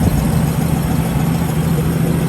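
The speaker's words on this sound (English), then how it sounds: "it's idling super nice" A 1971 Toyota FJ40 engine idles steadily with a low, even rumble and slight vibration, no voices.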